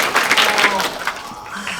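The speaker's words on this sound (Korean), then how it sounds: "박수 부탁드리겠습니다" Applause from an audience at a Korean film screening Q&A with the director and cast, a dense patter of many hands clapping at moderate loudness that thins out toward the end.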